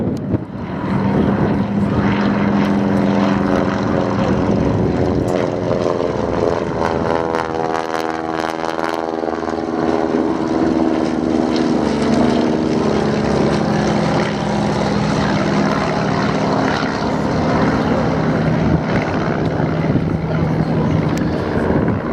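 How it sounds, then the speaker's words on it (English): Propeller aircraft engines drone loudly and steadily at an airshow, a continuous roar with shifting pitch as planes pass, and a commentator's voice runs over it. "You are about to see now the deployment of fixed-wing aircraft in a war role."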